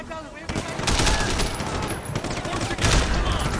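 Bursts of gunfire in the game Sleeping Dogs, sharp loud shots and volleys crackling over game noise, with someone talking over the action.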